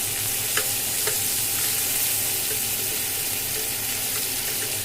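Stuffed parwal (pointed gourd) frying in oil in a pan as the pieces are turned over, giving a steady, close sizzle with a few soft scraping knocks from the flipping.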